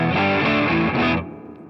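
Overdriven electric guitar through a drive pedal and a light reverb plays a short blues phrase of a few picked notes and chords, loud and alone, then rings out into a soft reverb tail.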